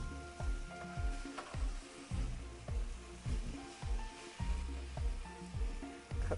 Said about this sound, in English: Now it's time to stir in my dry spices.